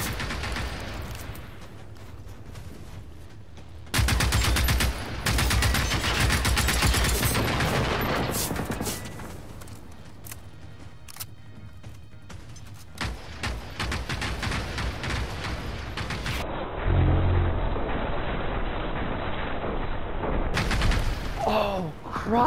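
Video game gunfire and explosions in a crawling assault mission, with near continuous bursts and blasts filling the mix and a few louder booms. Players talk faintly underneath.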